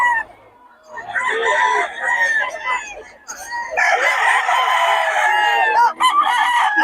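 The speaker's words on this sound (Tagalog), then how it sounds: "Solid mga stag yan, oh." Stags, young gamecocks, crowing at a poultry market in Bocaue, with long, loud, close crows following one another almost continuously amid a few clucks.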